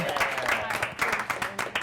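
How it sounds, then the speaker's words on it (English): Brief audience applause for a contestant on a picture-drawing game show, a quick patter of clapping mixed with voices. "Give Mr. Kellhauer a round of applause"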